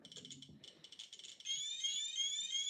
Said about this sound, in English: there's the infamous RadiaCode alarm